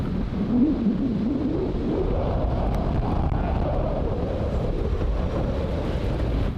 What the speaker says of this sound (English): Wind.